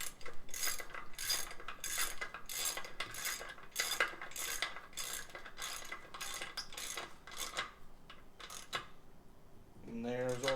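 A wrench ratchets in quick, regular clicking bursts while tightening the bolts that hold the lower unit on a Yamaha 150 outboard motor, close and crisp, then a voice speaks at the end.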